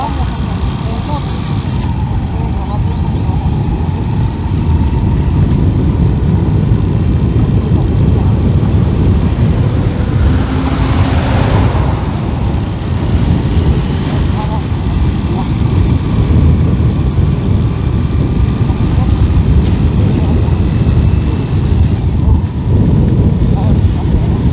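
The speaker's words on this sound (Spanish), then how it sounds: "pero vamos en moto." Riding a motorcycle produces a steady, loud engine and wind rumble that drones on without a break, with voices faintly mixed underneath.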